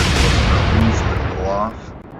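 Naval artillery fires in the Atlantic Fleet World War II naval game: one loud, close, broadband blast with a long rumbling decay that fades over about two seconds.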